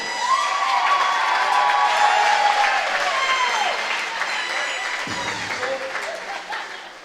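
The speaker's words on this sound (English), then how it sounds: "let's stand and applaud the starting lineup of your O'Neill Lady Eagles." A gym crowd at a high school volleyball match applauds and cheers for the starting lineup, a loud sustained roar of clapping and shouts that gradually fades, with a voice briefly audible over it.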